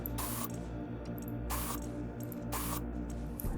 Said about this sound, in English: Some spraying.